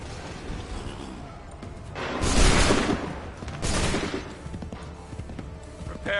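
Musket volleys in the Assassin's Creed 3 video game, two loud rolling blasts of massed fire about a second apart, with scattered clatter and distant crackle around them.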